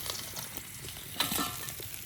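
Cauliflower fries in a pan, a quiet, steady sizzle with soft stirring scrapes throughout and a slightly louder burst of crackling partway through, heard up close with no voices.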